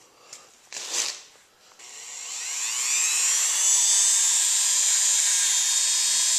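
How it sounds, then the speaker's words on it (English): A Dremel rotary tool spins up with a wire wheel, whining loud and steady after a few short handling knocks, as small bolts from a 1995 Suzuki Sidekick water pump job are brushed clean. "Wire wheels on the Dremel tool."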